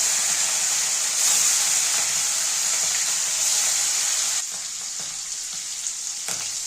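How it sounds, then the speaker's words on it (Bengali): Shrimp frying in hot oil for a taro-leaf (kochur shag) dish gives a close, steady sizzle and hiss that eases slightly in the last couple of seconds, with no voices. "এবার মাছগুলো আমি ভেজে নেব।"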